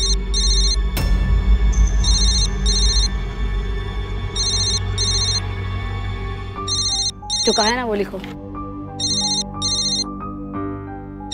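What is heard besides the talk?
telephone ringing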